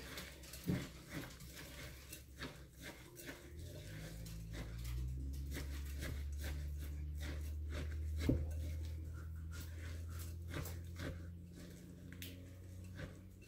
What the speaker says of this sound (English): I've got a dog that wants in